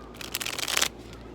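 Tarot and oracle cards riffle and slide together in a quick shuffle, a close, crisp burst of papery flutters lasting under a second.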